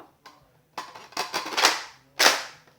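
Toy Nerf blaster being primed and fired, giving a sharp snap, a short rattling burst of mechanical clicks, then a second loud pop, close and alone with no talk.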